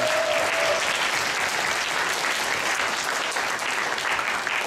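Steady, dense applause from a large audience at a youth church festival event in Korea, welcoming newcomers and sustained evenly throughout without pause.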